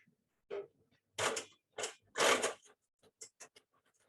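A Qmatic-controlled quilting machine moves along its frame in several separate mechanical bursts of whirring and creaking, close and fairly quiet, with short clicks toward the end and no talking.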